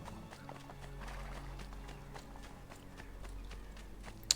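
A horse in Assassin's Creed 2 clip-clops steadily through a small village, hoof beats soft and somewhat distant under quiet background ambience.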